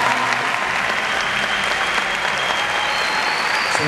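A concert audience applauds at a show, a thick, sustained roar of clapping from a large crowd that holds steady and loud throughout.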